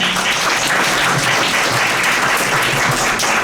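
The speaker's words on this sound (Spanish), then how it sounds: "Le recibimos con un fuerte aplauso" A conference audience welcomes a guest lecturer with a strong, continuous round of applause, dense loud clapping filling the hall evenly from start to finish without any voices.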